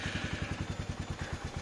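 A motorcycle engine idles close by, giving a steady low, rhythmic thumping pulse with a faint mechanical clatter.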